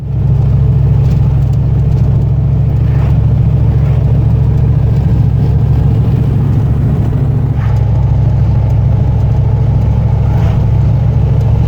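A steady, loud engine drone with a deep low rumble as a truck drives along, the hum holding constant throughout.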